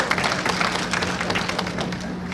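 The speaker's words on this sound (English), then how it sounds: "We should definitely clap for that." An audience applauds at a church community talk, a brisk patter of many hands clapping steadily for a couple of seconds at moderate volume.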